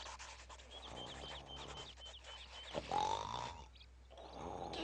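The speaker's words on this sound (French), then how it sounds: "Il est assis au milieu de la forêt et il ronfle." A creature snores in the middle of a forest, slow grunting rumbles rising and falling with each breath, moderately loud and close, with faint music in the background.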